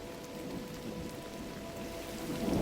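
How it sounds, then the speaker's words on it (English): Steady rain in the video game Gris hissing down across a surface, a continuous wash of patter with a low rumble building toward the end, no voices. "It's raining now."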